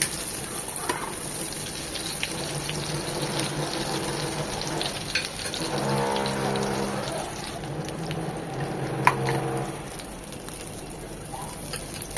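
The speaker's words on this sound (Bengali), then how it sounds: "ঘিটা দিয়ে ভাজলে হয় কি খুব সুন্দর একটা ফ্লেভার ক্রিয়েট হয়" Egg pitha frying in ghee, a soft continuous sizzle with some scraping and watery sounds, close and moderate in level, with a few clinks.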